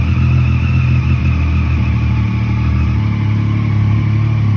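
A Suzuki GSR 600 motorcycle engine runs loud and close, holding a steady droning note for the whole stretch with no voices.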